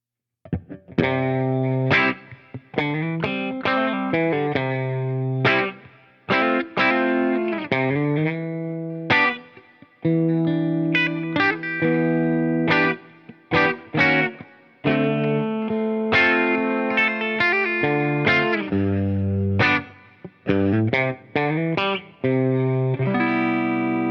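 Firebird-style kit electric guitar on its bridge pickup, strummed and picked in a run of distorted chords and notes with chorus-like shimmer, loud and close with short pauses between phrases.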